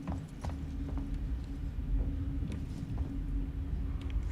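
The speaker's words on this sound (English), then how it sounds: "I hear footsteps." Footsteps in the PC game Alien: Isolation, a run of soft irregular clanking steps over a low mechanical hum, moderately loud with no speech.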